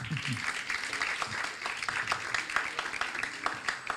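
Crowd applause with dense, steady clapping throughout, moderately loud, with some voices mixed in underneath.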